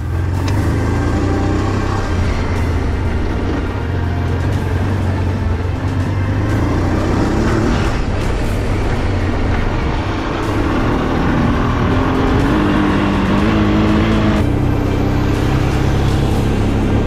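Motorcycle engine droning steadily while riding across Iceland's vast desert, with shifting revs and heavy wind rush throughout, the pitch rising and falling slightly as the bike moves along.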